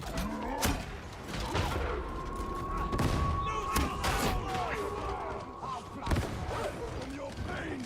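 A grenade blows up in a video game, with loud booming blasts and thuds spread over the clip. Other game effects and gunfire-like impacts continue throughout, and a voice talks at a distance underneath.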